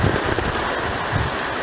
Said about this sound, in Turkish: Ağır sağanak.